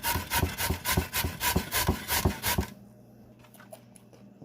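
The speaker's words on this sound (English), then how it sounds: "I'm going to grate my carrots in." Carrots rasped against a grater for a mango salad, a rapid series of rough rhythmic scraping strokes for a few seconds, then stopping, leaving faint handling noises and quiet room tone.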